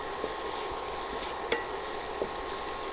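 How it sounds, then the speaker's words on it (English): Spices sizzling in coconut oil with ginger, garlic and peppercorns for pepper chicken, a steady close frying hiss with a few sharp spoon-against-pan clinks scattered through. "our spices is well sauteed in that coconut oil along with that ginger, garlic, and peppercorns"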